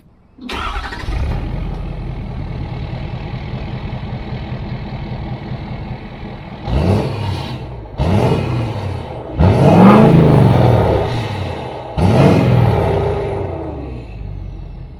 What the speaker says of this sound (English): here's what the stage 1 exhaust sounds like